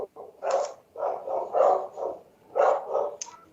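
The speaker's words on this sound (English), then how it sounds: "I apologize for my dogs" Several dogs bark in a rapid, irregular series of medium-pitched yaps indoors, heard a little way off in the background during a county commissioners court meeting, with no talking over them.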